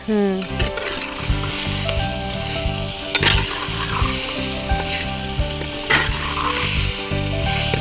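Food seasoned with salt and turmeric frying in a pan over an open flame, stirred steadily: a constant loud sizzle with rhythmic scrapes and clinks of a utensil against the pan, close up and without talk.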